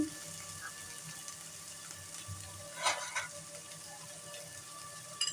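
Chopped tomatoes hit hot oil for a prawn malai curry, giving a steady soft sizzle and frying hiss with a brief louder spatter partway through, close and fairly quiet.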